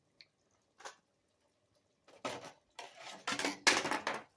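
A spoon scrapes and clinks around inside a pot in several short bursts, growing busier and louder toward the end.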